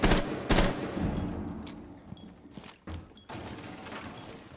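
Gunfire in the tactical shooter Rainbow Six Siege: two loud bursts of close shots up front, then scattered quieter shots and mechanical clicks trailing off, with footsteps and thuds between them.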